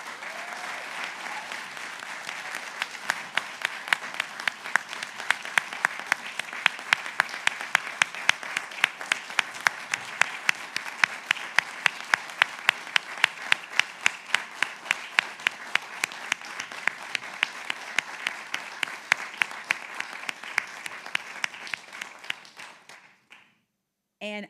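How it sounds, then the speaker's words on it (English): An audience at a state public-service awards ceremony gives a sustained round of applause for eight honorees. Dense clapping builds, then carries on steadily for over twenty seconds before tapering off. "Join me in a round of applause for these 8 public servants."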